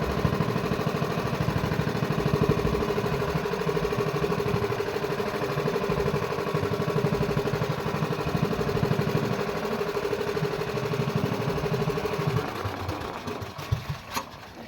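A steady, droning boat engine runs continuously at close range, a mid-pitched mechanical hum that cuts out near the end, leaving quieter rattling.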